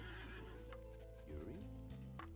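Horse neighing in the Age of Empires Definitive Edition game during a battle with horse archers, one whinny rising over steady game music and battle noise.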